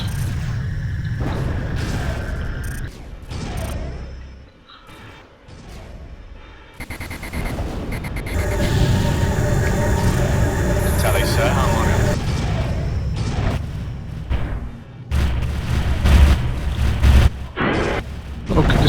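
Space combat in FreeSpace 2 with booming explosions and bursts of weapons fire, loud and dense. Blasts continue with only brief lulls, and radio-style voices speak over the battle.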